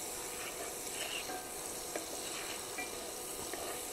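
Two tablespoons of butter sizzle in a hot skillet over medium-high heat for a loaded breakfast, a steady, faint, even hiss with tiny crackles and no talking.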